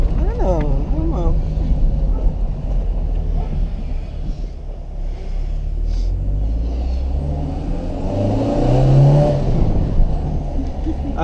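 Renault Clio 1.6 16V engine accelerating from inside the cabin, a low steady rumble that swells and rises in pitch near the end, with people talking over it.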